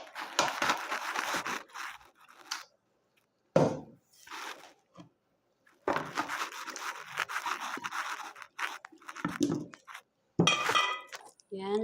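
Sliced squash, red pepper and potato being stirred in a pan, with intermittent scraping and clinking of utensil against cookware in short bursts separated by pauses, while a person speaks.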